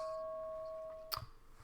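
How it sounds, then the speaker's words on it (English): A stock market opening bell rings as a sustained electronic tone that fades, followed by a sharp click or strike near the end, heard faintly with no talk. "Here's the bell."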